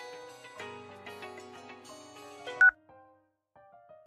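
Telephone dialing tones sound in a rapid run of steady beeps in a Haryanvi film scene, ending with a sharp click and a short quiet pause before faint tones resume.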